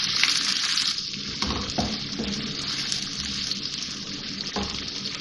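Sliced onions fry in a pan until light brown, giving a loud, steady sizzle and crackle with occasional soft stirring scrapes, continuous throughout.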